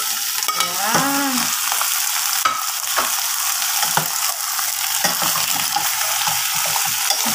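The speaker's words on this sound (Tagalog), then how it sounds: "Tapos ihalo na natin ang ating pusit." Squid for adobong pusit sizzling in a pan as it is stirred, a steady close crackle of frying with occasional scrapes and clinks of the utensil, no talking.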